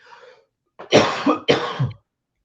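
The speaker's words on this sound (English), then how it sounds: "I can hear you cough." A person coughs close to the microphone, a faint sound first and then two loud harsh coughs in quick succession.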